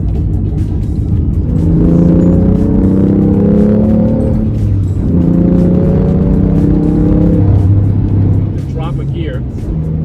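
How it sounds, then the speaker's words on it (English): Dakar Yellow 2016 BMW F80 M3 heard from inside the closed cabin while driving, a low steady exhaust rumble rising and falling through gear changes, with someone talking over it. "So there you can hear the burble a little bit, but it's not too loud."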